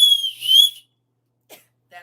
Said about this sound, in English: I got a whistle already.